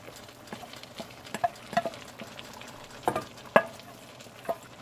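Pre-cooked corn goes into a pot of simmering squash, giving scattered soft clinks and scraping stirs over a quiet bubbling background, with a few sharper knocks near the middle.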